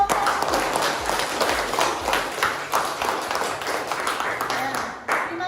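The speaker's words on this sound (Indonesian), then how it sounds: "Beri tepuk tangan dulu untuk kelompok." Students in a classroom clap for a group that has just presented, a ragged burst of applause mixed with chatter and voices throughout.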